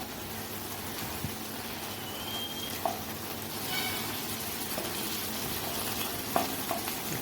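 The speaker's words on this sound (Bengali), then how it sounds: "রসুনটাকেও নেড়ে নিতে হবে, রসুনটাকে ভালো করে ভেজে নিতে হবে" Garlic sizzles in hot ghee for a tomato chutney while a spoon stirs it. There is a continuous crackling fry with a few sharp scraping and clinking strokes against the pan, and no talk.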